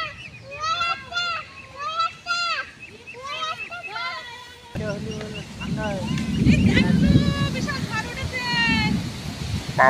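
Ducks call in repeated nasal quacking bursts outdoors in the Sundarbans as an afternoon storm gathers. A rising wind and wash of rain-like noise build beneath the birds through the second half.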